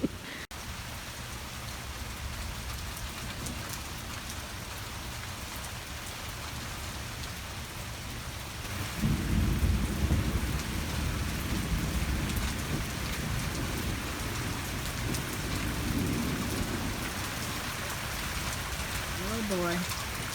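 Heavy rain pours steadily in a thunderstorm, a dense wash of drumming drops, with a deep rumble of thunder swelling near the middle and lingering under the downpour.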